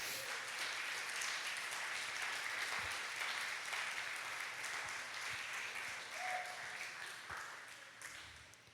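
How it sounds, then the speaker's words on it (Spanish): A church congregation applauds together in a sustained, crowded wash of clapping that holds steady and then slowly thins toward the end. "Dale un buen aplauso al Señor si quieres."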